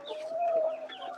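Egg-laying hens make a brief, steady clucking call close by, one sustained cackling note over soft background murmur.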